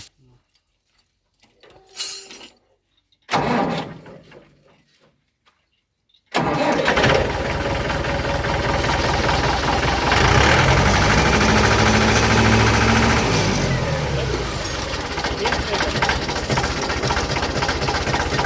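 A Mahindra 595 Turbo tractor engine cranks and catches after a few short knocks, then runs at a loud, steady idle close by with a constant rumbling clatter and no talking.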